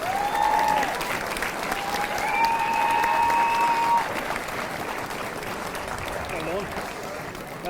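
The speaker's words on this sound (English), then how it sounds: "please have a big round of applause for our 1971 All-Ireland winning Jubilee team" Stadium crowd applauds the 1971 All-Ireland winning Jubilee team at the 2021 senior hurling final between Bray Emmets and Glenealy, a broad, sustained wash of clapping that fills the whole stretch, with a faint voice and tone over it.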